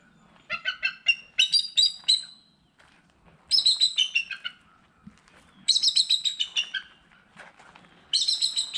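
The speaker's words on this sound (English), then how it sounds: "We're at the aviary section of the preserve. Got a bald eagle." A bald eagle in a preserve aviary gives repeated high, chittering call series, four bursts of rapid piping notes separated by short pauses, clear and fairly close.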